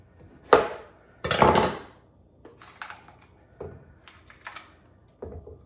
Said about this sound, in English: just chopping right down